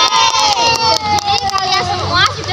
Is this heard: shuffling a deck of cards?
no